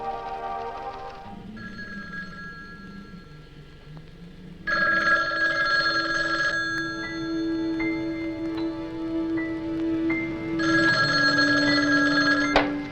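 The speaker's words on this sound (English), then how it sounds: "How about that telephone up at the Butler house? Is it working?" An old telephone bell rings in repeated bursts inside a house, loud and close, with short pauses between the rings and a low hum underneath.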